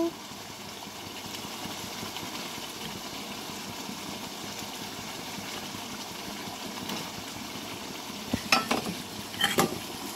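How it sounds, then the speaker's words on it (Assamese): Fried food with spices being stirred in a pan over the stove, a steady low sizzle with soft scraping, and a few louder clattering stirs near the end. "এতিয়া মই এইবোৰ হিলাই দিছোঁ"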